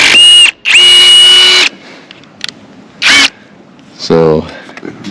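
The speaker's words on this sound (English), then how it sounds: "Pretty happy with the rivet gun. It takes a DeWalt battery." A battery-powered DeWalt rivet gun setting 1/8-inch rivets into a standing seam metal roof, giving several short, loud mechanical bursts with pauses between them, and a voice briefly heard near the end.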